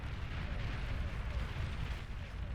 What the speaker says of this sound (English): A lot of beautiful explosions there.